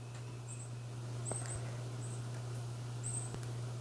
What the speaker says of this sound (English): I've got that bloody bird still, by the way. That's what that tapping noise is.